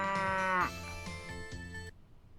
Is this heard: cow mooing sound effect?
yes